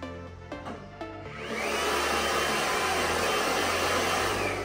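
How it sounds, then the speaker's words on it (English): A Martino Freestyle Systems Turbopower Pibbs blow dryer switches on with a rising whoosh and settles into a loud, steady whirring hum that runs continuously to the end. "your blow dryer automatically turns on"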